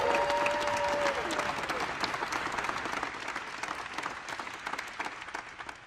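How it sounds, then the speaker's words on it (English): Applause from the audience at a post-flight press conference for a New Shepard crew, loud and dense at first with a brief tonal whine, then slowly tapering into scattered claps. "Another round of applause."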